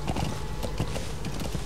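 Horse hooves clip-clopping in Metal Gear Solid V: The Phantom Pain, a steady rapid run of hollow hoof beats at a trotting pace, close and moderately loud over a low rumble.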